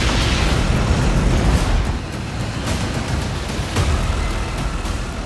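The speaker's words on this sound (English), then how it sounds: "As the lava meets the ocean, that ocean water is immediately flashed to steam. You can have what they call littoral explosions." Steady roaring rumble of lava pouring into ocean water, with dense broadband hiss of flashing steam and faint muffled thuds of littoral explosions, loud and continuous.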